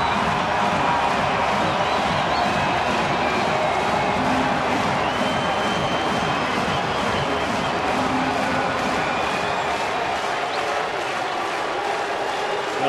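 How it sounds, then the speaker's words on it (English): Steady roar of a baseball stadium crowd during a Detroit at Kansas City game, cheering swelling continuously and loudly throughout, dense and unbroken with no distinct speech on top. "the pitch level of the crowd just went up again"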